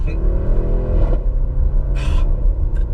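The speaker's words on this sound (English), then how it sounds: "Like, estate cars shouldn't sound like that, but this is so cool. I mean, I'm sure, these pops and bangs, they're probably heavily over-engineered." An Audi RS6 Performance estate burbles with a deep, close exhaust rumble, broken by a couple of sharp crackling pops and bangs.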